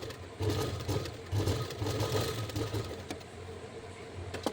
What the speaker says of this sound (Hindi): अब इसको पट्टी को पलट कर हम एक सिलाई और लगाएंगे किनारे से